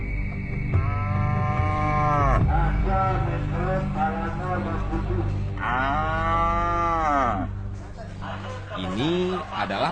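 Water buffalo at a busy weekly livestock market in Pariaman bellow in long, loud moos, one after another, over a steady murmur of crowd noise.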